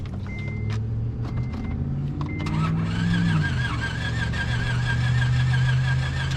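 An Acura TL engine cranks on a startup attempt, a steady whirring starter drone with a rising tone, up close in a hot home garage, without catching into a clear idle.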